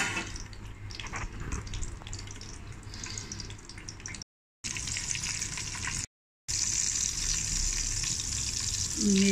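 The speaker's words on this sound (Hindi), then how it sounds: "मेवे और बादाम हम रोस्ट करते हैं" Almonds and dry fruits roast in ghee in a kadhai with a soft continuous sizzle and faint stirring. Two brief silent gaps break the quiet, close frying sound.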